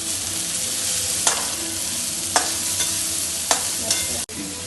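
Egg bhurji sizzles in a frying pan as a spoon stirs it, with a steady hiss of frying and a few distinct scrapes against the pan at intervals, close and without talk.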